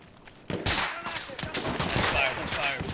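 Battlefield 1 gunfire: dense, loud rifle and machine-gun shots crackling in rapid overlapping bursts that kick in suddenly after a quiet start, with faint voices underneath.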